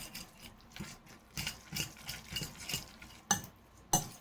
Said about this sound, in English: You take a fork and you just mix it together like that.